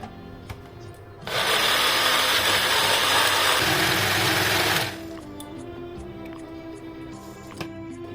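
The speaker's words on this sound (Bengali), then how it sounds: "এবার এগুলোকে আমি একটা মিক্সি জারে নিয়ে এটাকে পিষে নেব" A kitchen mixer grinder jar pulverises chopped watermelon pieces with a loud, steady, close whirring roar that runs for about three and a half seconds, then cuts off. A soft, continuous tonal background sits underneath.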